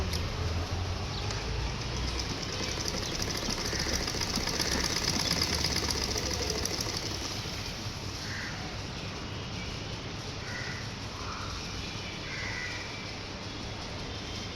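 A sewing machine stitches a half-inch seam on a blouse lining neckline in a tailoring class, running as a steady, close, continuous whir throughout with no talking.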